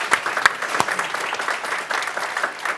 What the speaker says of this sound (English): Let's give Chrissy a round of applause.